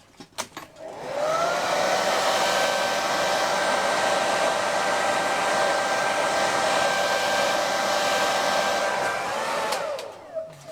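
A hair dryer blows on wet acrylic paint, switching on after a brief fumble, then a loud steady whirring roar for about eight seconds before it winds down and stops.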